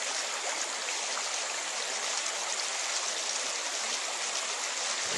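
A creek flows in a steady, broad rush of water, close and constant for the whole stretch with no voices.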